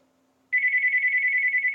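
A telephone ringing indoors, a steady electronic ring that starts abruptly and carries on loud and unbroken, with a faint low hum underneath.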